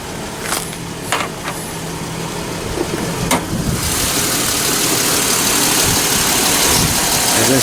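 A retired 2006 Chevy Impala police car with a 3.9L V6 idles close by, a steady low mechanical hum with a few sharp clicks early on before the engine note broadens and holds even.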